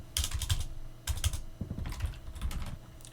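Clicky computer keyboard typing of a Linux terminal command, close and fairly quiet, in quick bursts of keystrokes with short pauses between them.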